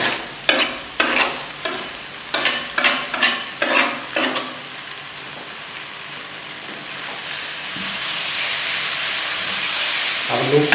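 Chopped onion, green chili and tomato hit hot oil alongside masala okra (bhindi), a burst of sharp rhythmic clunks from ingredients dropping in and stirring, followed by a loud, continuous close sizzle.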